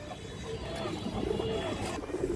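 Indian high-flyer pigeons at a pigeon farm give soft, low cooing calls, a few gentle rolling coos close by against a quiet background.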